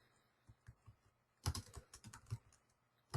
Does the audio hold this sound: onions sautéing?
no